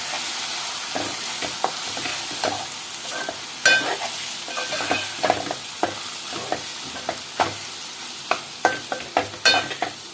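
Bottle gourd coconut curry stirred in a pan, a spoon scraping and clinking in irregular strokes over a soft, steady sizzle, close and fairly loud with no talk.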